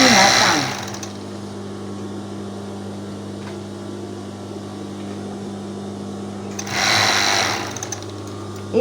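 Sewing machine running a backstitch seam, a loud steady mechanical whir and rapid needle patter that starts, pauses, then runs again in short bursts, with a voice speaking Indonesian faintly underneath.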